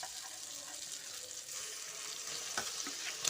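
Chicken pieces with a little onion and spice masala fry in hot oil, giving a moderate, even hiss with a few faint knocks near the end and no talking.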